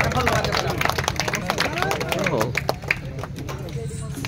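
Audience clapping at a village Badadanda folk dance competition, a loose patter of hands that grows more distinct toward the end, mixed with crowd chatter and voices.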